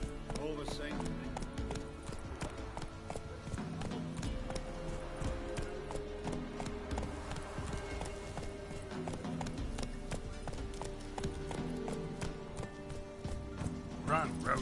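Roach the horse gallops in The Witcher 3, with a steady run of hoof clip-clops under a continuous bed of game music and ambience and a voice talking over it.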